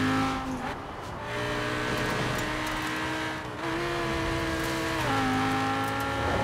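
Lamborghini supercar in the racing game Forza Horizon 4, engine note holding a steady high drone with pitch shifts as it shifts and accelerates, continuous and loud throughout with no talking.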